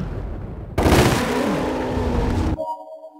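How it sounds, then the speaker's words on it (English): An automatic pistol fires in the shooting game Resident Evil: The Umbrella Chronicles: a loud, dense burst of rapid shots lasts about two seconds, then cuts off abruptly. "let's test the automatic pistol out"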